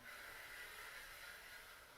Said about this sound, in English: Notice you can hear my breathing.